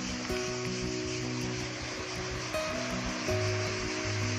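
Gentle sea waves wash steadily at a sheltered private beach on Brač island, Croatia, a continuous soft surf wash at moderate distance with no voices.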